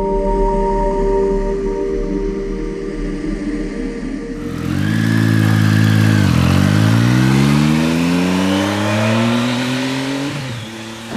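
A Triumph Street Triple RX motorcycle idles, then its engine is revved hard, the pitch climbing and falling back in a loud, close sweep.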